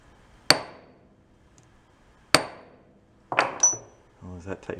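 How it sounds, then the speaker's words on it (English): A hammer whacks a broken portable ice maker twice, two sharp ringing metallic strikes with short decays a couple of seconds apart, followed by softer clinks and handling noises. "whack it with a hammer"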